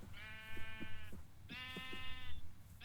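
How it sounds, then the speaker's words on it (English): Two drawn-out bleats from sheep in the Minecraft video game, each a wavering, harmonic call lasting most of a second, separated by a short pause, at moderate volume with no talking. "What are the odds of there just being sheep everywhere?"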